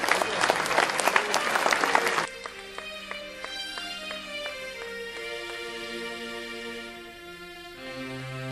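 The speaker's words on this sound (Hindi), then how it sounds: "ज़रा ज़ोरदार तालियां।" An audience at a ceremony breaks into loud, dense applause for about two seconds, then it cuts off and gentle music carries on alone.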